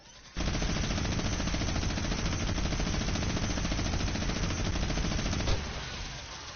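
Video game minigun firing nonstop until it overheats: a dense, loud, continuous roar of rapid shots lasts about five seconds, then cuts off suddenly and leaves a quieter hum, with no talking.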